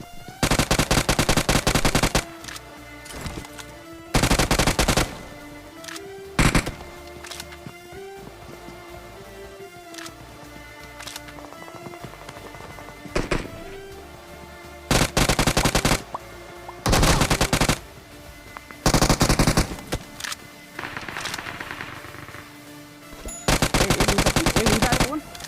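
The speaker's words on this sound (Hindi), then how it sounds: "अब रोड पर काफी ज्यादा फायरिंग के साउंड हमें आ रहे थे" Rapid machine-gun bursts and gunshots in a mobile shooting video game, loud clustered volleys separated by quieter stretches of lighter firing and game sounds.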